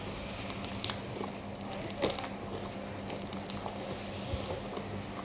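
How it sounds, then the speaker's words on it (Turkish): Slime mixed with shaving foam crackles and pops close by in a quiet room, a soft squishy stream of tiny irregular pops with a few sharper snaps, faint overall and with no talk. "Bu patlamaları tıraş köpüğü sağlıyor"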